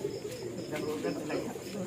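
Racing pigeons being loaded for a race cooing softly in a continuous low murmur, fairly close, with a busy flock sound and faint background activity.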